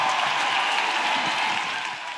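Applause from a congregation during a charismatic French-speaking church prayer and intercession service, a steady dense wash of clapping that holds level and eases slightly toward the end.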